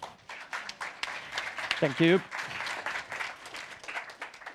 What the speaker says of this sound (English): maybe we can give a warm round of applause for Branko